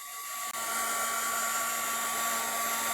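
A hair dryer speed-dries a paper craft project: a steady, loud whooshing blow that switches on after a brief pause and runs on evenly, alone, with no talking.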